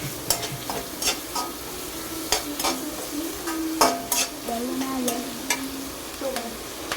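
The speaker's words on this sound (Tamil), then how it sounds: "இப்போ நம்ம வந்து க்ரீன் சில்லி போடுறோம். ஃபைன் சாப் பண்ணிட்டு க்ரீன் சில்லி போடுறோம்." Finely chopped green chillies fry in a pan for hotel-style fried rice, with a steady sizzle broken by repeated scraping stirs, close and moderately loud.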